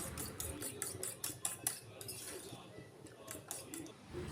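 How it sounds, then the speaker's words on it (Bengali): Eggs with chopped onion, salt and turmeric are whisked in a bowl, giving rapid, rhythmic clinking strokes of utensil against the bowl. The strokes come close-up and fairly faint in quick bursts, then pause briefly before resuming. "দিয়ে খুব ভালো করে এবার আমি ফেটিয়ে নিচ্ছি"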